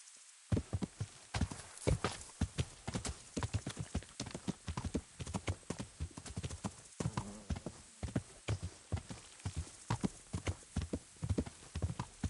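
Rapid rhythmic hoofbeats clip-clop steadily at close range, a galloping horse in the video game Kingdom Come: Deliverance, with no voices over it.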